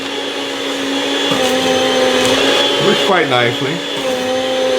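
A Chef's Choice 615A electric meat slicer runs and cuts through a slice of bread, giving a steady whining motor hum with a brief rise as the blade takes the slice. A voice speaks over the machine.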